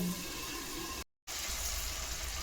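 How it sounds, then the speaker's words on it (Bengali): Water poured from a vessel into a curry in a cooking pan, a steady broadband rush lasting about a second before a brief cut and then continuing at an even level. "জল দিয়ে দিলাম"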